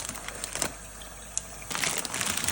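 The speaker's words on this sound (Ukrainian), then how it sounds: "тихо переносимо до місця споживання і ріжемо пакетик" A cookie packet being cut open, heard as a quick series of crinkly plastic rustles and snips, two bursts separated by a quieter pause, close and fairly soft with no voices.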